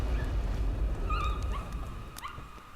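In the horror game Layers of Fear, a dog whimpers and whines in a few thin, rising cries over a low rumbling ambient drone, fairly faint and set back in the mix.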